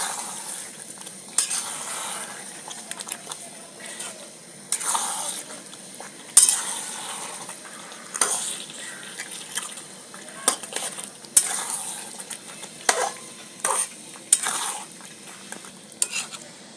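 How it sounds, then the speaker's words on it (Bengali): Chicken pieces for biryani stirred in a pot, with intermittent scraping strokes and clanks of a spoon over a low frying hiss, close and moderately loud with no voices. "বাকি মাংসটা দিয়েও বন্ধুরা আমি ভালো করে নেড়ে দিচ্ছি এইভাবে"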